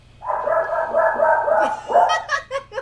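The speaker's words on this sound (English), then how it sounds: "There's dogs. Okay, the dogs." Dogs bark and yip in a quick rising burst, fairly loud and close, over a low steady hum, with a few shorter yelps trailing off at the end.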